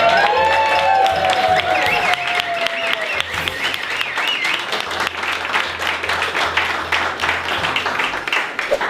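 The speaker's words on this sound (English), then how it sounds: "let's give them a little clap" An audience in an evening workshop session applauds the team, with dense, sustained clapping filling the room throughout, loud and close, while a voice talks briefly over it at the start.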